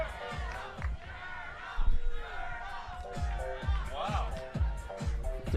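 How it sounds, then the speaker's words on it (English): A beach volleyball crowd chants a rhythmic, repeated call in steady beats, with cheering voices underneath. A commentator talks over the chant the whole time. "A shirt off chant from the crowd for Jake Landel."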